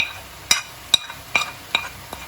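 Fried onions with turmeric and Kashmiri chili powder in a pan, quiet background sizzle broken by five sharp spatula strikes and scrapes at a steady stirring rhythm, close by.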